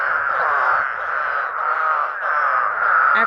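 A dense chorus of spadefoot toads calls after heavy rain at a Kentucky breeding site, a steady, overlapping wall of trilling voices close by with no gaps, alone and without talk.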